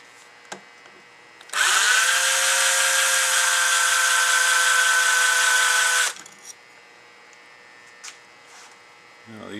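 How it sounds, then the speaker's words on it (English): A power screwdriver backs a screw out of the casting of a marine dual diaphragm pump, one steady whining buzz lasting about four seconds, close and loud, with small clicks and handling noises before and after. "We're going to take out all 10 of these screws."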